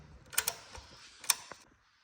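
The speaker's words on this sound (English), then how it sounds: "I'll just tighten it properly with the normal wrench at the end." A hand wrench tightens the gear shifter bolt on a Suzuki GSX-R motorcycle, producing a few close, quiet metallic ratchet clicks and taps over about two seconds.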